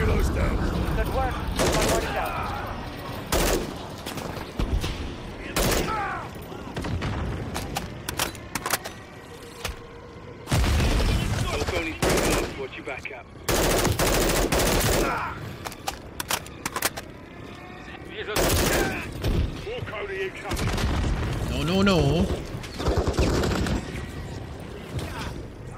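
Bursts of enemy automatic gunfire and single shots crackle loudly and repeatedly through a Call of Duty Modern Warfare III battle, with heavy dense volleys, brief lulls between, and a voice calling out over the fighting.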